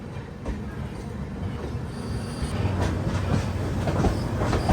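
Kolkata–Jammu Tawi Express train moving at a station platform, with a steady rumble of rolling wagons and wheels, occasional clicks and faint squeals, growing slightly louder toward the end.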